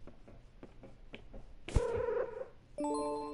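A cat in a video game, soft short sounds followed by a louder drawn-out meow, then a sustained tonal chime, heard alone without talking.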